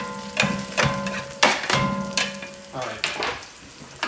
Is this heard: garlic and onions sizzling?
yes